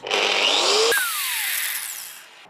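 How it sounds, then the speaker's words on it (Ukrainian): Crown CT13667 angle grinder with soft start, a brief loud whirring burst in which the motor whine climbs in pitch, then drops away as the noise fades over a couple of seconds. "Болгарка має плавний запуск і покажу, як виглядає рестарт."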